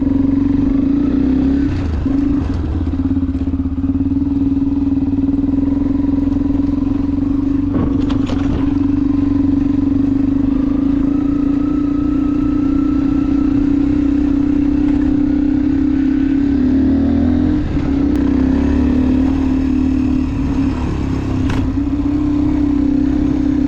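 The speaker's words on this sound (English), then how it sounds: "The bike is running smoothly, the bike is running properly, and it has some very nice exhaust sound." A Tekken 250 Evo motorcycle idles steadily and loud up close, its engine and exhaust holding a constant low drone with occasional clatter and slight revs throughout.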